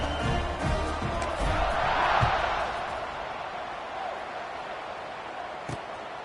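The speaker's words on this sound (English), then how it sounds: "you think this crowd's going to get loud when their defense comes on the field?" Football stadium crowd swelling in noise, a broad roar building toward the middle and then easing slightly, with a few thumps and a commentator's voice faintly present.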